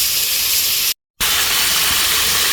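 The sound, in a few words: pot of Jamaican gungo rice and peas steaming under lid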